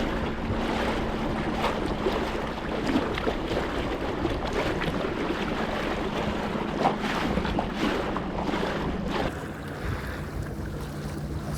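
A PowerPole Move kayak motor runs steadily on a Bonafide XTR 130 kayak out on the water, a constant low hum mixed with wind and water wash that drops off slightly near the end.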